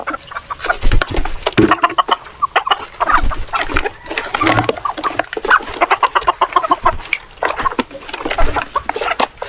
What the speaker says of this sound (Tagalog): Ito yung aking mga dumalaga kung tawagin mga ka-farmers.